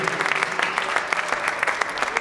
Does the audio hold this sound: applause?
yes